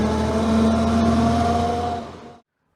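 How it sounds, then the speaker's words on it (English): A 1928 Austin 12 Heavy Clifton vintage motor car runs close and steady at a museum, a humming engine note with a clear tone that fades and cuts to silence near the end. "The considerable sounds of the motor car."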